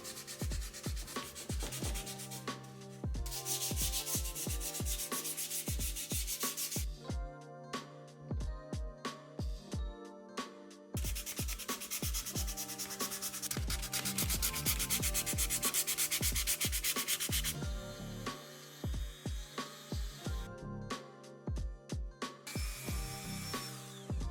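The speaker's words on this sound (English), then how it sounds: "I was left with hours and hours of sanding." Steady rubbing and scraping of sandpaper on a wooden teddy bear carving, continuing in long strokes with brief pauses, close and fairly loud.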